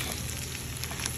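Shrimp hitting hot garlic butter in a pan, a steady close sizzle with crackling bursts, loud and continuous with no voices.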